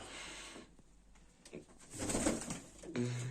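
Baku fighting pigeons coo softly at close range in a loft, with a fuller burst of cooing and fluttering toward the end.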